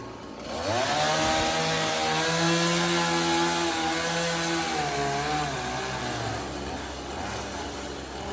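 A chainsaw roars continuously up close, its engine pitch dipping and rising slightly as it bites through log timber.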